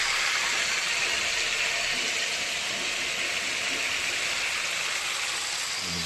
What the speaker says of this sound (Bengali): এই দেখুন মোচা সেদ্ধ করে নিচ্ছি